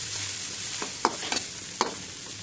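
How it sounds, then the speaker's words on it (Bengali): Ground spices stir-fried in a pan for a Bengali loitta fish dish, a soft continuous sizzle broken by a few sharp scraping strokes of the spoon, fairly quiet and close. "মশলাগুলো ভালোভাবে কষিয়ে নিতে হবে।"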